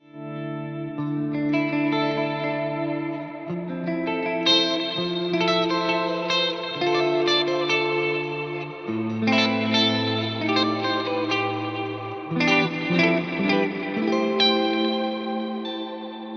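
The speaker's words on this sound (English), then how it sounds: "I've also got a Plex reverb on there." Sustained clean guitar chords through an Axe-Fx III multi-tap delay and Plex reverb ring out with lush, layered repeating echoes and a wide reverb wash, each change blooming and trailing into the next.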